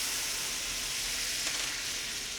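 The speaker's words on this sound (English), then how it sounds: "now we're going to deglaze that with a little bit of red wine" A pan deglazed with red wine while cooking swordfish, giving a brief, steady hissing sizzle close by.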